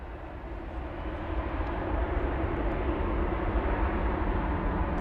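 An airplane roars at DFW Airport, a broad continuous engine rumble that swells slightly and then holds steady for several seconds, moderately loud with no voices.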